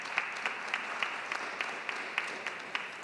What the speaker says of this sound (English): I would like you now to give them a big round of applause.